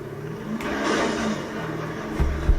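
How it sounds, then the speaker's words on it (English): A brand-new Nissan GTR revs and accelerates in a video game, a short loud rising engine whir with a couple of sharp thumps near the end. "Brand new GTR, just drove it off the lot."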